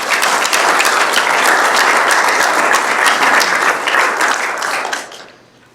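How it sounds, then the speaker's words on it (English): Audience applause for an engineering student team at a university biosystems and agricultural engineering event, a dense burst of clapping that holds steady for several seconds before quickly dying away. "let's give this group a round of applause."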